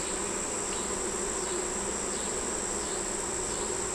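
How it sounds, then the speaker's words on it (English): Bees buzz steadily around a hive, a dense, continuous hum at an even level throughout with no voices. "Little bees that are misbehaving."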